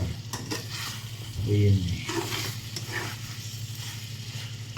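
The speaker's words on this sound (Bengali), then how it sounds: "এখানে মশলার সাথে কষাইতে হয় ভালো করে" Chicken cooks with spices in a pan, stirred to a continuous sizzle and frying crackle with soft scraping. A brief voice speaks over it partway through.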